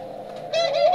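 Soft, low cooing from turtle doves in an aviary, a steady murmuring call that swells louder in the second half, close by.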